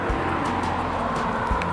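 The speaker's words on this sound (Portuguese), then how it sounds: "pegando os carros pra caramba" Cars passing on a street, a close, loud and continuous traffic roar with no pauses.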